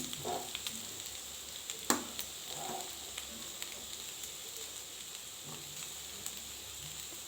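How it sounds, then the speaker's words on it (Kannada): Potatoes with chilli powder deep frying in oil for a crispy roast: a steady, faint sizzling hiss with light crackles and a few soft stirring taps, no talk. "ನನಗೆ ರೋಸ್ಟ್ ಬೇಕಾಗಿರೋದ್ರಿಂದ ನಾನು ಒಂದು ಸ್ವಲ್ಪ ಡೀಪ್ ಫ್ರೈ ಮಾಡ್ಕೊತೀನಿ."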